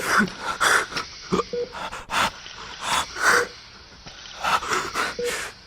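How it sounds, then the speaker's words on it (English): Ragged, wheezy gasps for breath come in a series of strained inhalations and moans, close and fairly loud. "Suddenly you gasp for breath."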